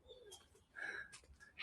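Ibises call at the World of Birds sanctuary, a few short, soft cooing and croaking notes spaced out over a faint outdoor background, quiet and somewhat distant, with no voices.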